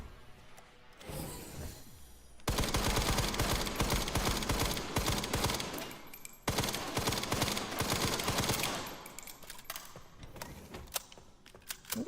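SMG fire in the Resident Evil video game: two long, loud sustained bursts of rapid automatic shots, separated by a brief pause and trailing off into quieter game sounds.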